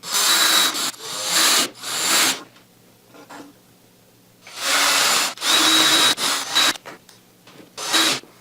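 A power drill bores a pilot hole through a wooden frame for a homemade acoustic panel, several close, harsh grinding bursts of about a second each, in two clusters separated by a quiet gap.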